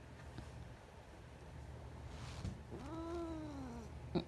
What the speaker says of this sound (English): That is one very upset Kiki.